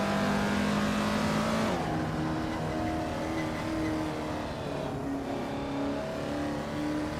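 Race cars in a video game roar past in close pursuit, engines droning and shifting pitch as they pass one another, loud and continuous with no voices.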